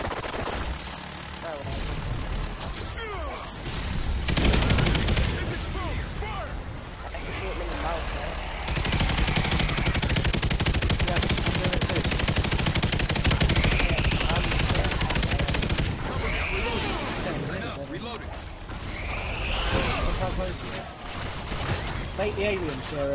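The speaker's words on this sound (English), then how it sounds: "Wait, he's gonna shoot him." Bursts of rapid gunfire and explosive blasts fill a session of the sci-fi shooter NightFall, loud and dense with shifting intensity, while players talk over the action throughout.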